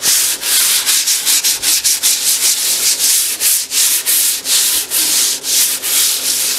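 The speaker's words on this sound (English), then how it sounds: "I'm gonna sand it down with some 320 grit" Wood being hand-sanded with 320 grit sandpaper while building a decorative shelf: steady, close, loud rubbing strokes in a fast, even rhythm with no talking.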